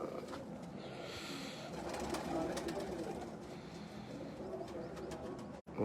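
Low flying pigeons cooing during a pigeon hobby tournament, a soft, low murmur of coos and bird calls outdoors under background ambience and distant voices, fairly faint and continuous.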